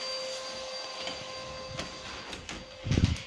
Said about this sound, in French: Désolé pour l'aspirateur.